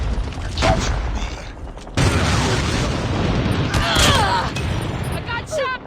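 Gunfire and explosions from a first-person shooter match during an objective capture, loud bursts and booms in a dense battle mix, with a player talking over it and in-game radio callouts.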